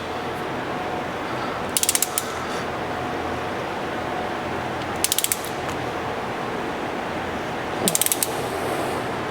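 A torque wrench tightening the gear oil drain plug on a GR86: soft ratcheting clicks arrive in three short bursts a few seconds apart over a steady background hiss.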